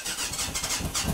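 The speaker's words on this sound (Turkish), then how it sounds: "Bak şimdi evanslı motora bak." A motorcycle engine idling at close range, a steady throaty rumble with a slightly pulsing rhythm, heard alone.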